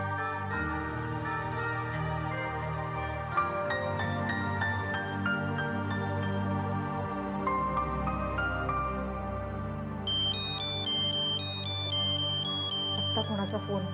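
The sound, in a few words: phone ringtone ringing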